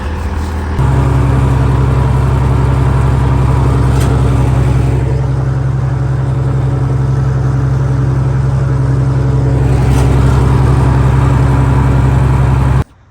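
A 560 tractor with a corn wagon pulls up and runs steadily, a loud, deep droning engine held at a constant rumble before cutting off abruptly near the end.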